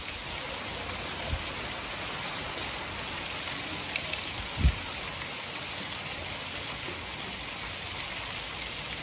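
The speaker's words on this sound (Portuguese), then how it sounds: "Chuva ligeira, mas uma chuva forte" Steady rain falls on an afternoon in Quixeramobim, Ceará, a dense, even hiss with a few soft thuds, continuous and fairly close throughout, with no voices.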